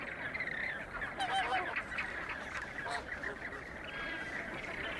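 A nesting colony of flamingos on the Atacama Desert salt pan, honking and gabbling calls overlapping in a continuous distant chorus.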